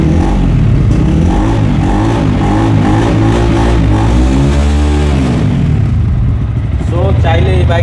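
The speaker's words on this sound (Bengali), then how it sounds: "দুইটা বাটন প্রেস করলে কিন্তু চাবি ছাড়াই বাইকটা স্টার্ট হয়ে যায়। এই যে দেখেন বাইক কিন্তু স্টার্ট হয়ে গেছে" A motorcycle started without a key idles loudly and close with a throbbing engine rumble throughout, while someone talks over it.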